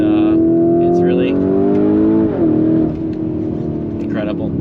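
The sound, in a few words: Lamborghini Urus 2021 accelerating on test drive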